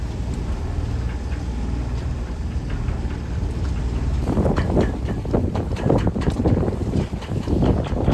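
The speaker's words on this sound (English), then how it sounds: "Whoa, these are massive rollers." Wind roars and water crashes around a sailboat caught in a storm at sea, with large rolling waves building to heavier, louder surges and spray through the second half, with no talking.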